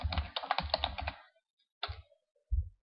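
Quick keystrokes clatter on a computer keyboard up close, a dense burst of clicky taps followed by two isolated key presses after short pauses.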